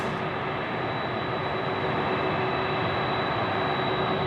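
Aircraft jet engines at Sydney Airport at night, a steady, loud, continuous roar with a high whine running through it, unbroken and with no talking.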